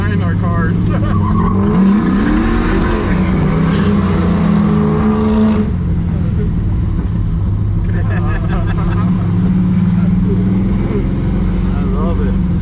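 A 50-year-old Chevrolet Camaro on a Saturday night cruise, its engine rumbling and revving loudly and continuously up close, with a talking voice heard over the motor.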